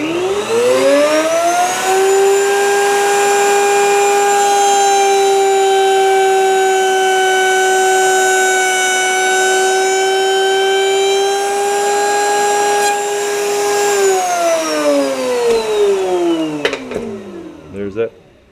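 A power tool spins up, holds a steady high whine while cutting wood on a face frame jig, then winds down over the final seconds, loud and close with no talk.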